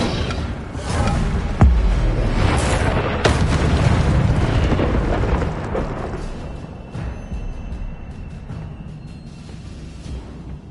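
Fiery blasts from the Incendio spell in Hogwarts Legacy: a loud burst of roaring flame with sharp cracks near the start, then a rumbling, crackling fire that slowly fades.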